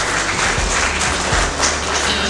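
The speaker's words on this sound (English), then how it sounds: "I think we need to give her a round of applause for being a great mother" Wedding guests applaud a mother at a wedding celebration, a dense, steady wash of many hands clapping at once that carries evenly through the whole stretch with no voices over it.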